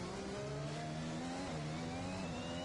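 A race car in a racing video game at Spa-Francorchamps sweeps through the bus stop chicane, its engine note rising and falling in steady gear changes, loud and continuous throughout.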